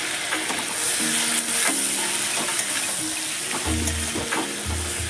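Vegetables for a Bengali fish curry sizzle and fry in a pan, with a steady hiss and repeated stirring scrapes and utensil knocks close by.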